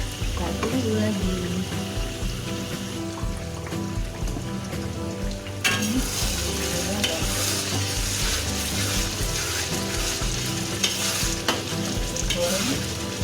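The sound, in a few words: frying food in a pan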